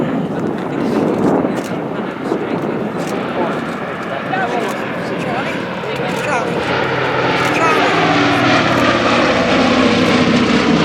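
A Boeing B-17G Flying Fortress at the 2014 Shoreham airshow gives a steady, loud piston-propeller drone that swells slightly toward the end, with narration running over it throughout.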